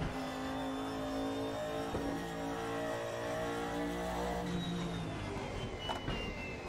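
A 1992 Audi DTM race car engine in the video game RaceRoom drones steadily, rising and shifting in pitch as it revs, loud and continuous throughout.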